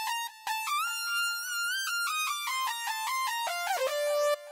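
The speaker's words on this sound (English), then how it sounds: "It's like a fake brass that you can just do by fucking with the detune." Retro synthesizer patch with detuned oscillators giving a fake brass tone, playing a loud, bright melodic phrase of sustained stepping notes with rich harmonics, heard alone.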